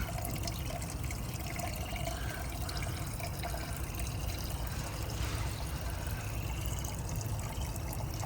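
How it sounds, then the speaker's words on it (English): Fresh diesel poured into a fuel filter on a Detroit 60 Series truck engine, a steady close liquid gurgle and trickle running continuously without pause, with no talking over it. "we're gonna fill it up with some fresh diesel along with some transmission fluid"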